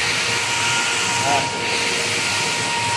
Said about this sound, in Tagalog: Napakaingay ng pumping station, oh.